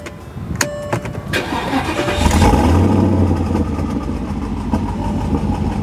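A Porsche Cayenne Turbo S engine, tuned to 600 horsepower, fires up and revs hard, the exhaust roaring loudly up close with turbo spooling audible, then settles into a deep, rumbling idle.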